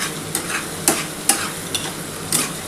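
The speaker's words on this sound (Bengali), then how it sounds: "আর খানিকটা পেঁয়াজ বাটা আছে, সেই পেঁয়াজটা দিয়ে দিলাম। এবার ভালো করে একটু নাড়াচাড়া করতে হবে।" Onion paste stirred in a frying pan while cooking chicken dak bungalow: a handful of crisp scraping strokes at uneven intervals over a low sizzle, close and fairly loud, with no talking.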